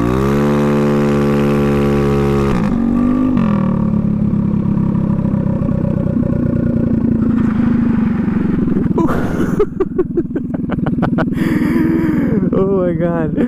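A drag scooter engine running at about half throttle, loud and close, with a rising then steady buzzing drone, sudden pitch shifts and a rattling burst near the end.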